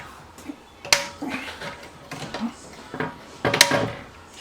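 A new Mayfair toilet seat's hinge snaps into place with a sharp plastic click, followed by a second click a few seconds later, amid light handling noise and some talking.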